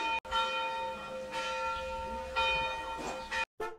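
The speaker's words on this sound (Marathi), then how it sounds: "जसे घंटा वाजत आहे" A church bell ringing with sustained ringing tones, moderately loud and alone, with a brief dropout near the end.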